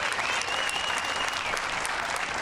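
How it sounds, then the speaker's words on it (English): Fans in the stands at a Little League baseball regional game in Sammamish, WA applaud a player who sits up after being hit. The clapping is steady and dense, heard from a distance under a faint whistle-like tone. "gets a round of applause from all the fans"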